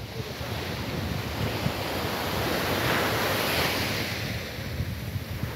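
Sea waves at Sharjah beach, a continuous broad wash of surf rolling in with gusty wind buffeting the microphone, steady and fairly loud with no voices.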